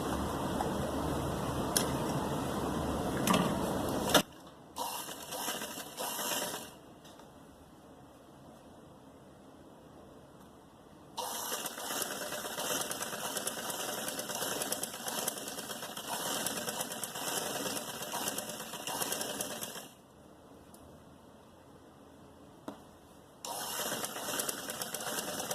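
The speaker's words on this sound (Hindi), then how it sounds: "इतना हम सिलाई करके इसको अटैच कर देंगे" A sewing machine stitches a salwar cuff in bursts, its fast mechanical whir running for several seconds, pausing, then starting again, fairly faint and steady, with no talking over it.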